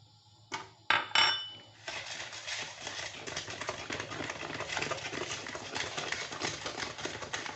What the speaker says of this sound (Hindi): 4 अंडे ले लिए हैं, इनको मैं बीट कर लूँगी। इनमें चीनी डाल रही हूँ।